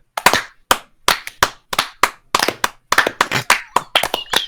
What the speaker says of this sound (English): This just sounds like regular speed clapping.